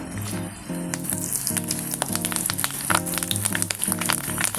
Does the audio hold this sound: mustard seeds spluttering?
yes